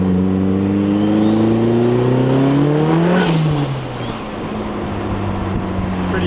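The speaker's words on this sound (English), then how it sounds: "this is the blow off valve on full atmospheric vent" Turbo blow-off valve on a big-turbo Datsun 510 venting straight to atmosphere, a rising engine rev ending in one sharp loud whoosh of released air, then the motor settling back to a steady idle.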